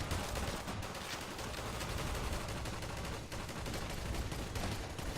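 Sustained gunfire in a Garry's Mod zombie survival match, a dense, continuous burst of rapid shots filling the whole stretch at steady loudness with no pauses and no talking.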